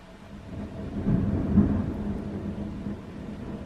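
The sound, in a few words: rain with thunder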